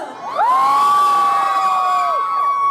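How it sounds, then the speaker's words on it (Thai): A large crowd at a concert in Chiang Rai, Thailand screams and cheers loudly and continuously, high-pitched shrieks rising together and sustained throughout. "ขอเสียงกรี๊ดดังๆหน่อยเลย"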